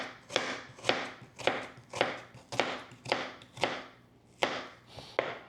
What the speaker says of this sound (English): But I'm going to basically cut thin slices